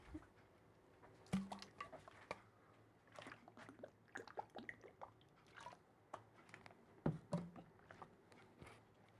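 Someone drinks water, with quiet, close sips and soft wet swallows coming in irregular bursts over a faint room hush, with no one talking.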